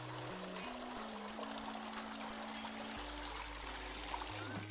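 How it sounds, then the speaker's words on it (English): Soft, steady trickle of water filling a teapot in the tea-brewing game Wanderstop, a faint continuous pour beneath gentle tonal background music. "First we fill it with water."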